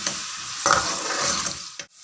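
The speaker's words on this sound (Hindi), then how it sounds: "प्याज को हम फ्राई करेंगे 2 से 3 मिनट के लिए" Steady, crackling sizzle of onions frying in hot oil over medium-high flame, close and continuous, with a brief stir or scrape before it cuts off.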